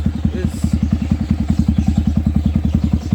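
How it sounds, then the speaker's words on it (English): A modified Yamaha R15 motorcycle with a Leowins exhaust idles close by, its engine thumping in a fast, even beat that stays loud and steady throughout. "This is the Leowins exhaust, as you can see, guys."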